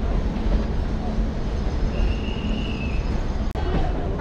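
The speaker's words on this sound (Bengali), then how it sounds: "আমরা পৌঁছে গেছি হাওড়া স্টেশনে" Busy ambience at Howrah railway station, a continuous low rumble of trains with a faint high metallic whine, steady and moderately loud, with a brief sharp click near the end.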